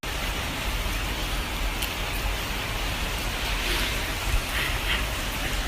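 Steady rain falls on a day in Kyoto, a dense, even hiss that holds at a constant level throughout with no voices.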